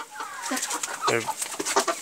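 Broiler chickens call in a series of close, short chirps and clucks that overlap, with no clear speech.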